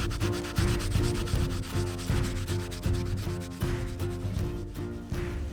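Steady abrasive rubbing of soft polyurethane sanding discs against a boat propeller, a continuous close grinding hiss pulsing in regular strokes, with no voices.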